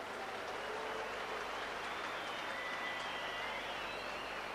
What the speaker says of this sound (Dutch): er mensen op de tribune zijn die gaan juichen bij zoiets vervelends